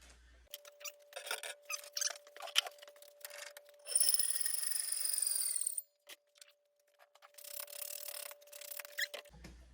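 A saw cutting a wooden bow form to length, coming in bursts of rough rasping strokes, a sustained stretch of steady sawing in the middle, then more scraping strokes, close and fairly quiet with no talking.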